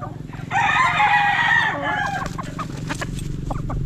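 Dome gamefowl rooster giving one loud, close crow lasting just over a second, followed by softer clucking and rustling.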